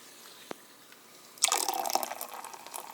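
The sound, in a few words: pouring carbonated water into a mug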